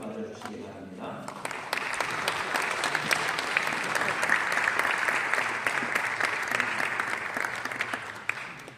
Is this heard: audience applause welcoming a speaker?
yes